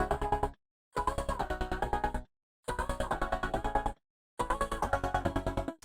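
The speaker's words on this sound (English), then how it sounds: "it's a really easy way to make stutters in Ableton" A stuttering electronic music loop made with Ableton's Beat Repeat, playing in bursts of rapid chopped repeats with abrupt silent gaps between them.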